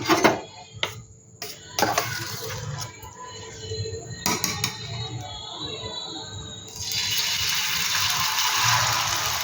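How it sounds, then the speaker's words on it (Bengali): Maggi noodles dropped into a lightly oiled pan, giving a few close clinks and knocks of noodle block and utensil against metal, then a steady soft sizzle as the pan heats. "এবার আমি দেখো এই যে ম্যাগিটা আমি দিয়ে দিচ্ছি এখানে।"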